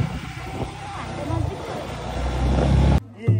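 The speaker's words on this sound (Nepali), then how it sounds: "हामी यसरी बाइकमा बसेर जाँदैछौँ" A motorbike rumbles along with a steady low engine drone and wind buffeting the microphone, the engine note rising toward the end while someone talks over it.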